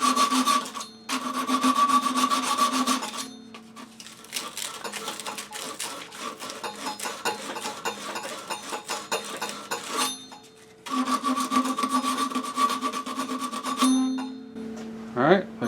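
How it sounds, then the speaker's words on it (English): Sandpaper rubbing by hand to round over and clean up an edge of a part during a hot water tank replacement, steady scratchy strokes in long bursts with short pauses, close and moderately loud. "I'll get some sandpaper. Clean that up a little bit."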